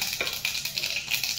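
Mustard seeds and cumin crackle and sizzle in hot oil for a tempering over spring onion greens, a faint steady hiss with small pops and spits, no voices.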